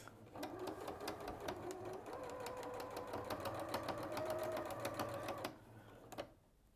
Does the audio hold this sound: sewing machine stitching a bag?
yes